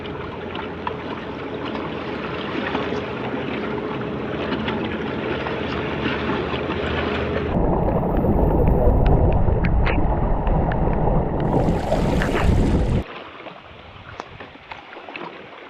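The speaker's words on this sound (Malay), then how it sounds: "Angin mari." Strong wind roars over a boat at sea during a storm, a dense, loud broadband rush that swells midway, then drops abruptly to a quieter hiss near the end.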